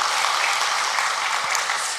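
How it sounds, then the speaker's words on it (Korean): A church congregation at a Sunday worship service applauding, a dense, even wash of clapping from many hands that holds steady throughout. "주님께 먼저 다시 한 번 더 영광의 박수를 올려드리겠습니다"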